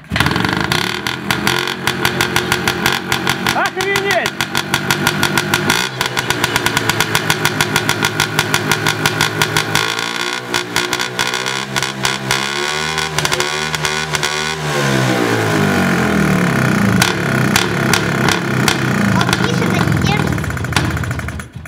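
Homemade trike built on an IZh Planeta 5 motorcycle engine, running loud and close with a steady buzzing beat throughout, the pitch wavering as it idles and surges, with voices talking over it.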